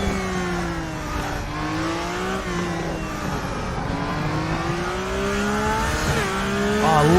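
A race car engine in the RaceRoom sim at the Nurburgring, revving hard and near with steady rising and falling pitch, gear changes and a brief tire squeal, growing louder toward the end.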